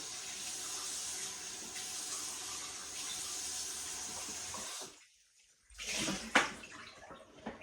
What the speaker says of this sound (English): Let me rinse them off real quick.